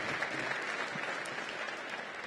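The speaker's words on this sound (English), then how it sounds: "Give her a big round of applause." Audience applause for a city council member at a mayoral announcement, a steady wash of many hands clapping heard at a distance for the whole clip, fairly quiet and with no talk over it.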